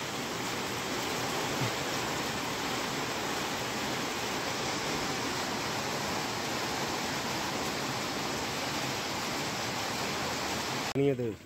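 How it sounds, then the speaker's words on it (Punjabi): Heavy rain pours down in a dense, unbroken roar of steady hiss that stays loud throughout, with a brief burst of louder noise right at the end. "ਬਾਰਿਸ਼ ਬਹੁਤ ਜ਼ਿਆਦਾ ਬਾਰਿਸ਼ ਪੈਣ ਲੱਗੀ"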